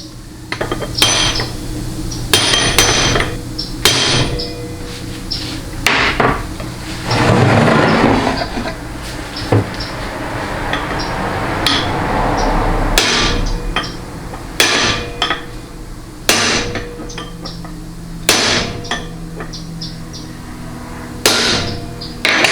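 Loud metallic hammer strikes on a 4L60E transmission part ring out in irregular bursts, some quick doubles and some spaced apart, with clanking and scraping of metal parts between blows.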